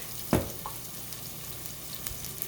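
Garlic hitting a pan of sautéing vegetables for broccoli cheddar soup, a soft, steady sizzle behind a single sharp thud as it drops in, then a few quieter stirring clicks.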